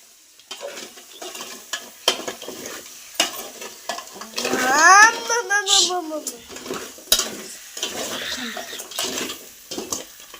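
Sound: crab masala frying in a pan

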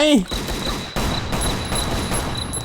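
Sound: gunfire in video game Last Island of Survival

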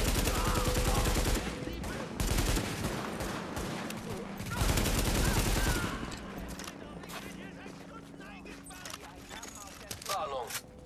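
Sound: gunfire from the video game The Division

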